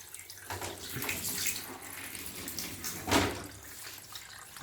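Water runs steadily through a reverse osmosis unit set up for a reef aquarium, a faint, continuous rushing and hissing flow with small surges and no talking.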